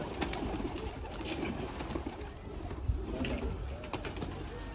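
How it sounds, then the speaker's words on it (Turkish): Fancy Elvan pigeons coo continuously in a loft, a steady layered murmur of soft throaty calls with occasional wing flaps, fairly close and with no speech. "kuşlar çok güzel ya"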